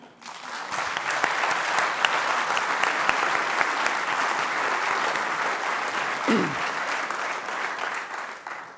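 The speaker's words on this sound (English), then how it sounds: "So I actually think we should give Index a round of applause for that." Sustained applause fills the room at the Index on Censorship Awards 2011, a broad wash of clapping from the crowd holding steady throughout with a brief low scrape partway through.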